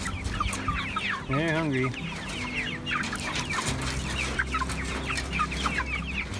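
Cornish Cross broiler meat chickens about two months old cluck and chatter steadily in a barn, with a brief louder squawk partway through and a voice speaking briefly over the flock.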